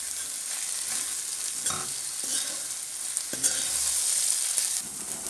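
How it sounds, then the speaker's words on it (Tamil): Okra and egg stir-fried in a pan as poriyal, with a soft continuous sizzle and scraping stirs of a spoon against the pan, close and without talk. "நல்லா கிளறி விட்டுடலாம்."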